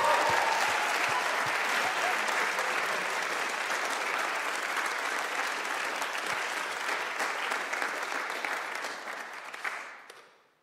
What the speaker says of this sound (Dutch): Geef ze een heel hartelijk applaus.